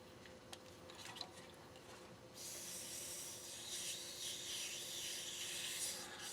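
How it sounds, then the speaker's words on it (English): Wet sanding wood with 800 grit sandpaper for a shaving brush handle, a faint steady rubbing swish that grows louder and more continuous partway through, with a few light taps early on. "This, what I'm using right now, is wet sandpaper. And right now, I'm on 800 grit."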